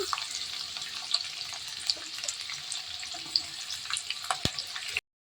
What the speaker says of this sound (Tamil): வெங்காயத்தை நல்லா வதக்கி விட்டுடலாம்